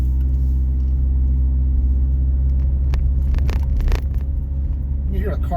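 Cars climb a steep residential hill on Long Ridge Court, their engines laboring in a steady, continuous low rumble close by, with a brief louder scrape near the end.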